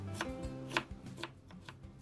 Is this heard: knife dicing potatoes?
yes